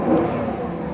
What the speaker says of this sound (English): I'm pushing it now. Runs good, just revs out just nicely